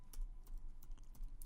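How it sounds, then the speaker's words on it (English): Code is typed on a computer keyboard in quick light bursts of key clicks at an even pace, close and soft with no voices. "Okay, so I just need to type in here"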